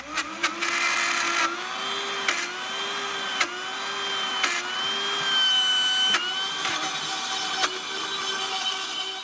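A Vitamix Professional Series 750 blender grinds peanuts into butter with a loud, steady motor whine at high speed, the pitch wavering slightly, and a few sharp knocks as the tamper is worked.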